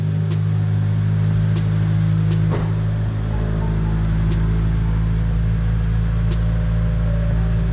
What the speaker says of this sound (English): we're gonna go ahead and fire this thing up